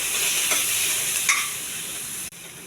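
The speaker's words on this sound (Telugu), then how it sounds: "కొన్ని కొబ్బరికాయ ముక్కలు ఇప్పుడే వేసేయాలి. ఇవి కూడా కొద్దిగా వేగించుకోవాలి." Ivy gourd and coconut pieces frying in a hot pan, a close steady sizzle with a couple of stirring scrapes, ending in an abrupt cut.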